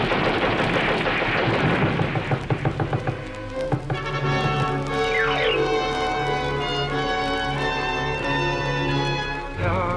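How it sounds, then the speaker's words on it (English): A new rapid-firing gun in a 1955 animated film lets off a fast rattling burst of shots over a few seconds, then gives way to sustained orchestral music with a sliding tone. "Then they thought up a new kind of gun. A gun that could kill men faster than ever before."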